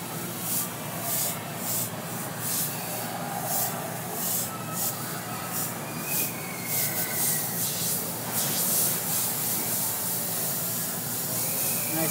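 An airbrush sprays paint for cursive script and graffiti lettering, giving a steady close hiss broken by a run of short, rhythmic bursts as the trigger is worked on and off.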